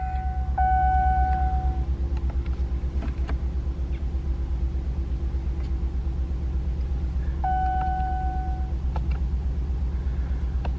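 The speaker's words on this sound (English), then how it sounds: "we're going to go ahead and start the truck up now" The 5.7L Hemi V8 in a 2019 RAM 1500 pickup idles with a steady low rumble. Two short electronic chimes sound over it, a few seconds apart.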